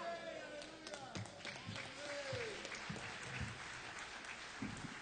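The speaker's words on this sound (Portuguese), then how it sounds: "Aplaude glorificando." A church congregation at a worship service in Sorocaba claps faintly, scattered hand claps sounding under voices that carry through the whole stretch.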